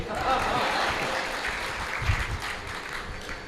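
A live audience at a comedy show claps steadily in a broad, continuous wash, moderately loud and somewhat distant, with a voice heard faintly over the clapping.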